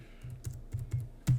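Computer keyboard typing in a quiet room, a handful of soft, irregular key clicks over about a second, faint and close, with no talk.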